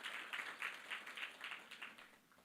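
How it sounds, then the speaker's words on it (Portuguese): Faint, distant applause from a forum audience, a soft patter of many hands with a loose rhythmic pulse, lasting a couple of seconds. "eu sugiro essa salva de palmas para ela mesmo, porque é muito merecida"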